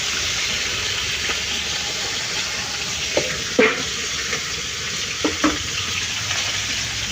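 Food frying in a pan on a wood-fired clay stove, a steady soft sizzle and hiss running throughout, with a few brief clinks and stirring knocks near the middle and end.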